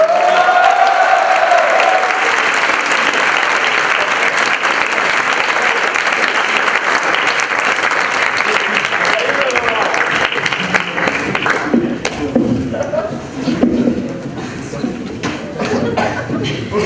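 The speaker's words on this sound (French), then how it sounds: "je vais vous demander d'applaudir pour l'arrivée de mon petit frère et ma mère." A talent-show audience gives loud, sustained applause that fades into lighter clapping and crowd murmur, with a brief tonal sound at the start.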